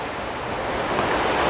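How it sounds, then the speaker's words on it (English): Rushing river rapids beside a cement trail, a steady dense broadband roar of churning water, close and continuous without voices. "And look, rapids."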